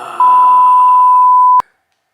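A censor bleep covering a swear word: a single steady pure tone, loud and close, held for about a second and a half before cutting off sharply into silence.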